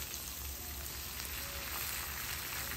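Hash browns with jalapeño and onion sizzle on a Blackstone griddle, a steady, even frying hiss that holds at the same level throughout with no voices.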